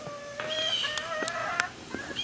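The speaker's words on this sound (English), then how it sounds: "Look how cute my little chickens are." Several chickens call in short clucks and chirps from nearby, with a few brief sharp notes over steady outdoor ambience.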